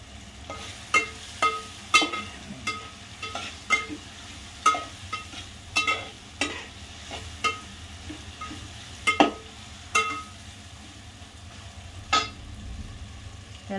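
Veg pulao ingredients roasting and sizzling in a pan, with a steady low frying hiss broken by a regular series of sharp spoon-against-pan scrapes and knocks from stirring, close up and without talk.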